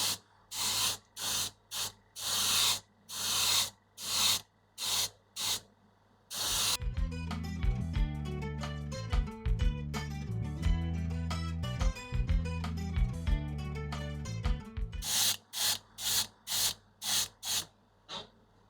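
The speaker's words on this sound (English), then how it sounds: "I can practice a little bit with the airbrush" An airbrush spraying black paint onto a prop tablet gives short, close bursts of hiss in an even rhythm, and a stretch of loud droning hum, likely the compressor, runs through the middle before the spray bursts resume.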